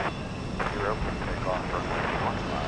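Antonov An-12 cargo plane at Houston Intercontinental airport, its engines a steady, fairly distant roar that holds throughout, with muffled voices underneath.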